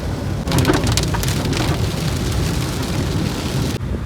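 Torrential rain hammers down in a steady, loud roar close by, with a faint rumble of thunder mixed into the downpour; no voices.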